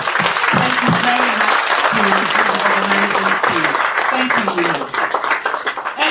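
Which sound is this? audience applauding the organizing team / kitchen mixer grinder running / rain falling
audience applauding the organizing team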